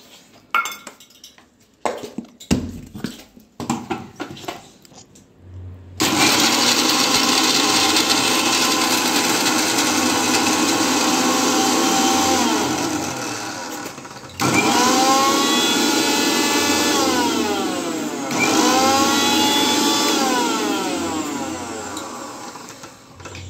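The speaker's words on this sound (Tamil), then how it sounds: "நம்ம இது ஹாப்பி பிஸ்கெட்டை மைல்ட் பண்ணி அரைக்கலாம்" Kitchen mixer grinder whirring loudly as it grinds Happy biscuits into powder for a cake, starting after a few clinks and handling sounds, running steadily with a brief pause and restart midway.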